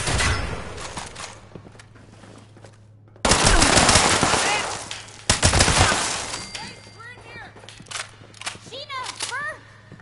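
Gunfire in the video game Fallout 76: a dense burst of rapid shots and short bursts, loud and close, followed by scattered single shots amid voices and a low hum.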